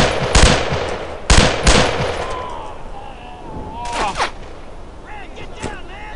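Gunfire in the WWII shooter Brothers in Arms: Earned in Blood comes as loud, sharp bursts near the start, followed by quieter scattered shots and rumbling battle noise further off.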